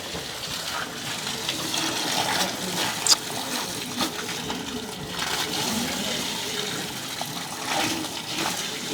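Water runs from a pipe at a newly built home, a steady rushing gush with small splashes throughout, no talking.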